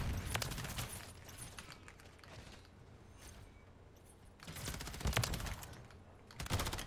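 A sentry gun in Call of Duty on the Shipment map fires sustained automatic bursts, dense rattling volleys that swell and fade repeatedly, fairly close and steady.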